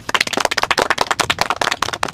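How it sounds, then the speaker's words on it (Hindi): A small group clapping their hands in quick, uneven bursts, close and fairly loud, with no voices over it. "बजाओ ताली"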